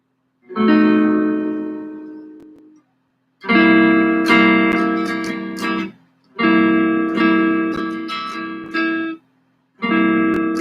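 Strummed electric guitar chords ring out one at a time, each held and decaying before a short silence, four separate chords in a slow sequence.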